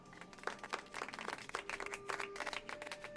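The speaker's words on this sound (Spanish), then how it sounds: "vamos a recibirlo con un aplauso" A classroom of schoolchildren claps to welcome a new classmate in a staged audio drama, scattered, uneven claps of moderate loudness with a few sustained tones running underneath.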